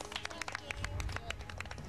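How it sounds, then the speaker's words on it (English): A group on a children's island adventure show claps in a round of applause, brisk irregular claps spread across the whole moment, moderately close, with some crowd noise underneath. "Give them a round of applause, guys."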